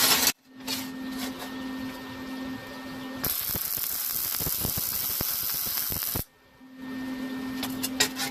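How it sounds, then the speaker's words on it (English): Welding on a metal part for a butcher knife handle repair, a steady loud crackling, sputtering arc lasting about three seconds between quieter workshop moments with a low hum. "So I'm going to weld this part."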